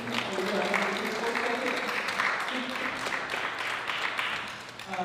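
Audience applause at a Pensacola community gathering for Alfie Smith, a dense steady wash of clapping from a crowd lasting several seconds, fading slightly toward the end with faint voices underneath.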